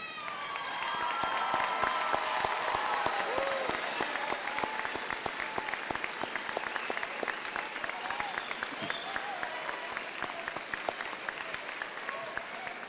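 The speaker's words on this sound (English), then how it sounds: "I'll ask the graduates to stand up and applaud and thank the people who helped them get here." Graduates at a Temple University School of Media and Communication commencement ceremony applaud, a broad, sustained wash of clapping from a large crowd heard at a distance, with faint voices mixed in.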